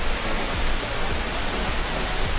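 The Misol-Ha waterfall gives a continuous broadband roar of falling water, steady and close, with no talk over it.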